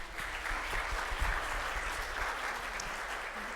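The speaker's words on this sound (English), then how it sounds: "Can we all give them a round of applause?" Audience applauding a panel on Medication First after a session, a soft, steady round of clapping heard from some distance in a room with a low background hum.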